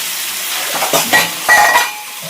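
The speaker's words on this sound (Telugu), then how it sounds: "ఇప్పుడైతే మనము మంచిగా ఫ్రై చేసుకుందాం సరేనా" Small bommidi fish frying in oil, a loud close sizzle with a few clattering stirs and scrapes in the pan.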